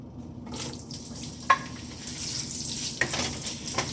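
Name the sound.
chopped onions added to hot oil, frying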